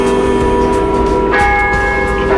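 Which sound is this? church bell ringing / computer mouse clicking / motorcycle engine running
church bell ringing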